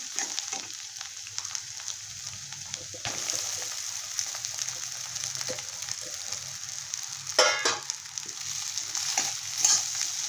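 Leftover rice stir-fried with Schezwan fried rice masala sizzles in a pan, a soft continuous hiss broken by a few louder scraping stirs and spoon clatters near the middle and end.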